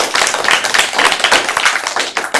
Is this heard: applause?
yes